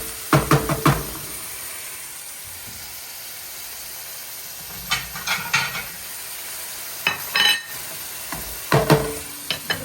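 Food cooking in olive oil in a pan on the stove for a quick ravioli pasta dinner, a steady soft sizzle and hiss with several sharp clatters of stirring utensil against the pan.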